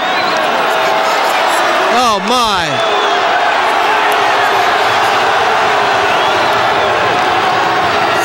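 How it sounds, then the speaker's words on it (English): Crowd roaring and cheering at the 2008 New Jersey state individual wrestling championship, a steady loud wash of voices throughout the clip with a brief rising shout near the middle and a commentator's voice over it. "The crowd noise has got to be inspiration."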